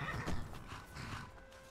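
A horse neighs in the game Skyrim, a clear whinny with a faint clip-clop of hooves underneath, close and moderately loud, no one talking.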